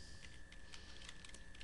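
Quick, soft keystrokes on a computer keyboard tap in an irregular run of clicks over a steady background hiss, with no talking.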